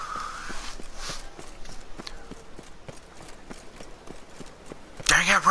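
Horse hooves clip-clop in a steady walking rhythm in The Witcher 3: Blood & Wine, close and fairly loud, with a brief louder burst near the end.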